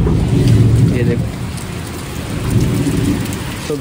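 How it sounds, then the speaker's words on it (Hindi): Heavy monsoon rain pours steadily outdoors, with deep rolling thunder rumbling loudly near the start and again toward the end. The sound is close and unbroken, with no voices over it. "बारिश हो रही है दबा के"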